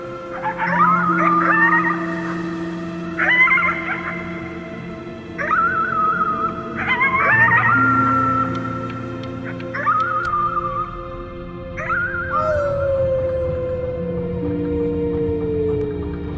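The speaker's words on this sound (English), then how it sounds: "You howled at the moon, at the top of your lungs." Howling at the moon in the video game Before Your Eyes comes as a series of wavering, rising-and-falling howls over sustained low musical tones.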